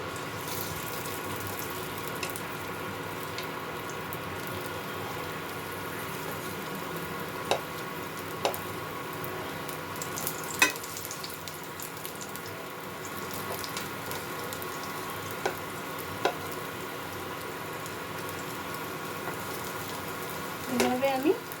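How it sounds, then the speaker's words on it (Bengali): Taro tikia patties frying in hot oil, one laid in after another, give off a steady soft sizzle with occasional sharp pops and crackles, heard close, and a louder bubbling burst near the end. "তেলটা গরম হয়ে গেছে, এর মধ্যে আমি এই একটা একটা করে টিকিয়া দিয়ে দেবো।"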